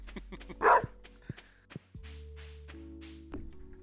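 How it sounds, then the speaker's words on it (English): A small dog in Hogwarts Legacy gives one sharp, close bark, followed by light playful yips, soft thuds and a sustained game tone. "we got a cute little dog Dawson here"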